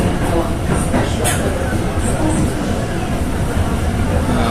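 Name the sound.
train passing through Jakarta railway station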